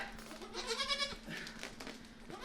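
Two-week-old rescued Nubian goat kids bleat close by on a farm, with one wavering cry in the middle and some quieter shuffling and low background hum around it.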